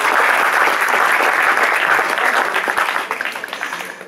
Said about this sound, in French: C'est normal, applaudissez pour ça, s'il vous plaît.